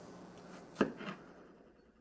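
A kitchen knife cuts an onion lengthwise on a cutting board, giving one crisp close chop followed by a softer second cut, with no talking.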